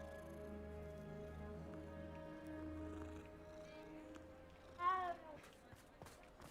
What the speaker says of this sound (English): That cat, or that meow is just...